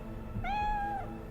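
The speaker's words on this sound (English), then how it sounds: "Meow. You're a good boy." A single drawn-out cat meow from an in-game cat in Cyberpunk 2077, a clear harmonic cry lasting about half a second over quiet game ambience, heard alone.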